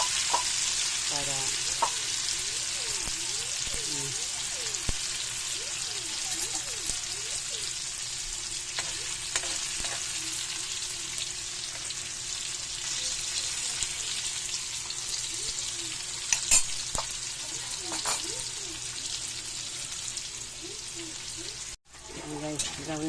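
Tofu fries in a pan of oil with a steady, close crackling sizzle that runs throughout, joined by a few stirring scrapes and a voice talking faintly in the background.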